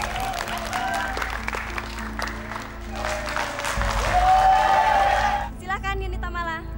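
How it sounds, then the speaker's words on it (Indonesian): Audience applause at an Indonesian TV singing competition after a contestant's score is announced, a steady wash of clapping with music underneath, swelling toward the end before fading out. "Tepuk tangan penonton."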